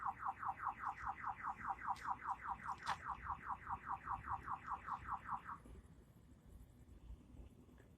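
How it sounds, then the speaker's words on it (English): A car alarm blares at night around 11:40 on a Monday, a rapid, steady pulsing whoop repeated about two dozen times, loud and fairly close, before it cuts off abruptly, leaving quiet street ambience. "Okay, the car alarm is stopped."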